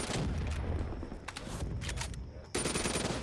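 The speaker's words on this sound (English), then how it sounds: "Definitely tell this is a custom gun sound" Rapid custom gunfire from a weapon in Black Ops 3 Zombies on a reimagined Town map, loud and sustained bursts of shots with a brief lull before firing resumes.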